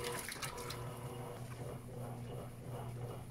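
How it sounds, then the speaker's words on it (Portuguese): An Electrolux LPR14 washing machine drains water in a steady, continuous rushing flow with a low hum underneath, moderately loud and close, with no talking. "a lavadora começou a drenar"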